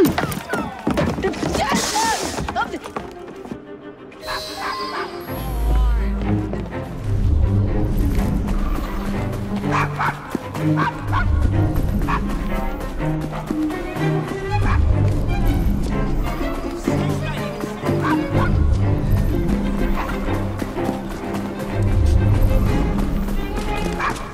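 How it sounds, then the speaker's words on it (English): A dog barks and yips several times in quick succession at the start in Assassin's Creed Syndicate, followed by clopping hooves, thwacks and busy street game ambience. "Nice doggy."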